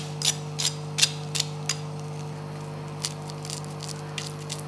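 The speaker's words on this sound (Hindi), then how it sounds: "ये क्रिस्पी बहुत ज़्यादा, ये स्किन जो है इसकी शायद आपको आवाज़ आ रही हो" Crispy fried fish skin crackling in street-style fish fry pakora: a series of faint, sharp crackles and snaps, irregularly spaced, over a steady low background hum.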